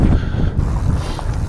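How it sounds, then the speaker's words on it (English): Strong wind buffets the microphone on an exposed hilltop beacon, a continuous loud rushing roar with gusty swells over the short span. "Quite windy."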